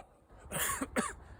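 A person coughs during a breathing exercise: two short, close coughs in quick succession, clear against a quiet background.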